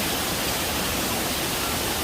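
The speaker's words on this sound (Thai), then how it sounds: "เราก็จะได้ยินเสียงน้ำตกตลอดเส้นทางเลยนะคะ" A waterfall along a forest trail on the way to Krok E Dok waterfall gives a steady, even, close rush of falling water with no other sounds.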